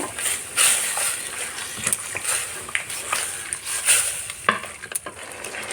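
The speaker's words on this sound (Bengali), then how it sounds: "এই লাঠিটা দিয়ে ভালো করে এই যে নেড়ে নেব নাড়তে নাড়তে শাকটাকে একদম গলিয়ে দেব" An old wooden stick stirs and scrapes leafy greens around a hot pan, giving irregular scuffs and knocks over a steady frying hiss, with no voices.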